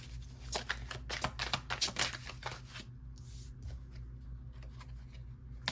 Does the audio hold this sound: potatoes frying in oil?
no